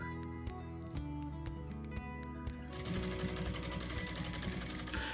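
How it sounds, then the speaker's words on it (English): A sewing machine stitches a fleece hood and trim together, with steady rapid mechanical clatter close by that grows louder and faster partway through. "sewing the hood and the trim together using our 3/8 of an inch or 1 centimeter seam allowance."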